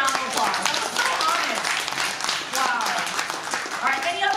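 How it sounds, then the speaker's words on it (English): An audience at a GeekPwn security conference talk breaks into applause, a dense wash of clapping heard alongside talking voices in the hall. "Can you give him a round of applause?"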